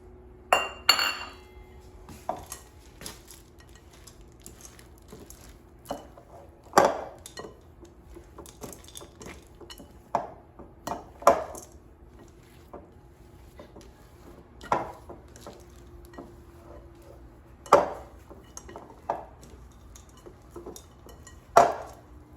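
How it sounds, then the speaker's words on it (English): Chocolate chips go into cookie dough made without brown sugar, with sharp, isolated clinks of utensil against bowl scattered irregularly over about twenty seconds of otherwise quiet mixing. "now let's add the chocolate chips"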